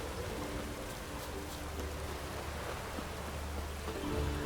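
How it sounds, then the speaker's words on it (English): Rain falls steadily in The Witcher 3, a dense, even hiss of drops on surfaces with a low rumble underneath. It continues without pause and no one speaks over it. "Looked like it would rain, and here it is."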